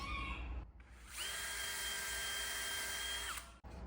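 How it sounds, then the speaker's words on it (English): A power drill bores into the wood of a rot-proof raised garden bed, its motor whining steadily and loudly for about two seconds up close, then spinning down, with a short burst of drilling just before. "you're going to want to drill from this way"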